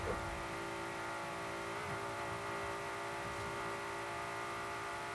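A Ford GT in Forza Horizon 5 screams at top speed in seventh gear, a loud sustained engine drone with a steady high whine and a brief shift-like dip near the start.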